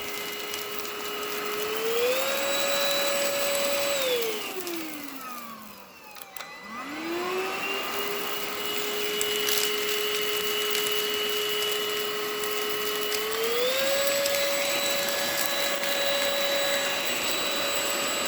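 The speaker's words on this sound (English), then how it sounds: "I'm going to turn it on, and you're going to hear it. There's the trigger. That's on low." An INSE N-5 cordless vacuum cleaner runs on low with a steady whine. Midway it winds down almost to a stop, then spins back up. Its pitch steps up and down briefly at the start and again near the end.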